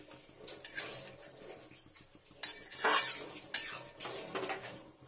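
Chicken polow is mixed in a pot with a metal spoon, a few scraping and clinking strokes that swell and fade, quiet and close with no talk.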